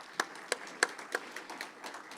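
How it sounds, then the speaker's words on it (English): Sparse, scattered claps ring out in a conference room for elected officials, a handful of distinct, fairly sharp hand claps spaced irregularly rather than full applause. "let's give the elected officials who are here a round of applause"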